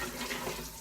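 Water pours into a cooking pot for Moroccan harira, a brief, soft and steady splashing stream heard up close with no talk.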